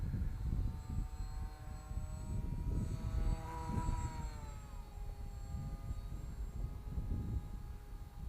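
A small foam RC plane's electric motor and propeller at half throttle give a steady buzzing drone with gently shifting pitch as the aircraft passes overhead, heard outdoors over wind rumble.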